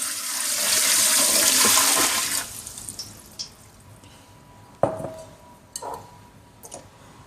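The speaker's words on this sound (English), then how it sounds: "I'm going to add like a gallon of water" Water pours into a big cooking pot, about a gallon added for a gumbo: a steady rushing splash that fades after about two seconds and is followed by scattered clinks and knocks of the pot.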